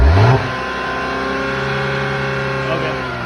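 A car engine revs up sharply as throttle is applied, then settles into a steady mid-pitched drone with a sustained harmonic hum for the rest of the moment.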